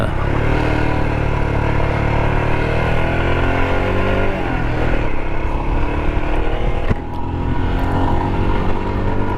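A 2023 Royal Enfield Himalayan single-cylinder motorcycle engine drones loudly and steadily while riding, with shifting pitch as it accelerates and eases off, wind rush layered over the close engine note.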